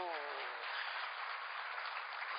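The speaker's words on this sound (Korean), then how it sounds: "하나님께 영광의 박수" A church congregation claps in worship, a steady muffled wash of applause filling the space after a brief voice at the start.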